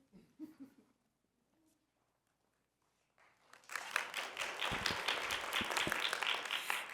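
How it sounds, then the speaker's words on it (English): Audience applause breaks out in a meeting hall at a city commission session on race, equity, diversity and inclusion, rising from near silence into steady, moderately loud clapping with a few louder claps that fills the last half. "Thank you for that reluctant applause."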